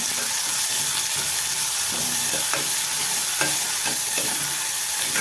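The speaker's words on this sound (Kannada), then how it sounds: "ನೀಟಾಗಿ ಎಣ್ಣೆನಲ್ಲೇ ಬ್ರೌನ್ ಕಲರ್ ಬರೋ ತನಕ ಫ್ರೈ ಮಾಡಬೇಕು" Onions with a little salt fry in oil until brown, giving a steady close sizzle with repeated scraping and stirring clicks of a spoon against the pan, no voices.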